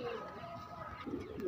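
Madras pigeons coo nearby, soft low throaty calls swelling toward the end over quiet background noise, with no speech.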